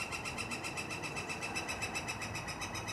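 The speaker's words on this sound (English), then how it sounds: "Birds are out here making beautiful noises, singing." Birds sing outdoors in early spring near a wood shop, giving a faint, fast, evenly repeating chirping trill that runs steadily throughout.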